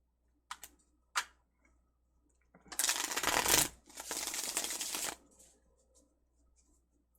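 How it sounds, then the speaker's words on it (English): A tarot card deck being shuffled: a couple of sharp taps, then two long riffling bursts of cards rattling together up close, with quiet gaps between and no speech. "Let me do a shuffle."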